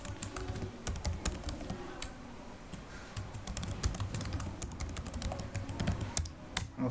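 Fingers typing a password on a computer keyboard, a quick irregular run of close, crisp key clicks with short pauses between bursts.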